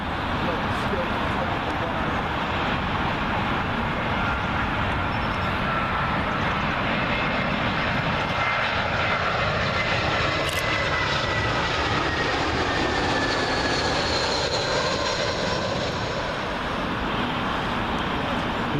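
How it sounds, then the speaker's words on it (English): A British Airways Airbus A320 from Gibraltar comes in over Myrtle Avenue to land on Heathrow runway 27L, producing a constant loud, near jet roar with a rising and falling whine, while a voice is present over it at times. "Another British Airways A320. This one from Gibraltar."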